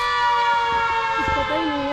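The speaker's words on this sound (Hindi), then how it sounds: "ये सायरन बज रहा है, पता नहीं किस चीज का है" A steady siren drones at sunset in Kasauli, a sustained tone holding through the whole moment while people talk nearby.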